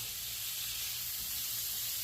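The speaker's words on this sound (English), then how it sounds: "You can hear it sizzling." Fideo pasta fries in a pan with a steady, close sizzle and hiss that holds constant without pause and with no talking.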